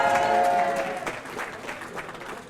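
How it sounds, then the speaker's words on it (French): A group of young students claps together in a burst of applause that is strongest at first, then thins into scattered claps, with a faint murmur of voices. "Alors on applaudit très fort"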